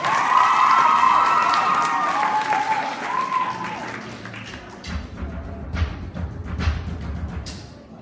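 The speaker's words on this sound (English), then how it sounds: "Give them a big round of applause, please" Applause and cheering from a school audience at a Young Social Innovators awards event for the Portmarnock Community School team, loud and dense at first, then thinning into scattered clapping and crowd noise.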